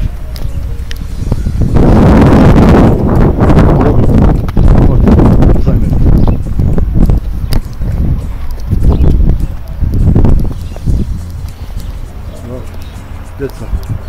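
Strong outdoor wind batters the microphone in loud, gusting bursts of deep rumble that swell and fade over several seconds, easing toward the end.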